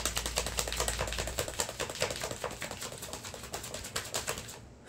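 Tarot cards are shuffled in a fast, steady riffle of soft papery taps and flutters, close and continuous for several seconds with no talking.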